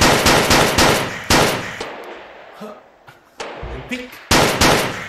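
Rapid bursts of automatic gunfire from the VR shooting game Gun Club fire loud and close in several stuttering volleys, with short pauses between them while someone speaks briefly.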